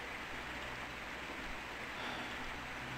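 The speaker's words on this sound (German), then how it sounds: "Warum regnet es? Regnet es nach oben?" Rain in the video game Castlevania: Symphony of the Night, a faint, steady hiss of falling rain that continues evenly without pauses.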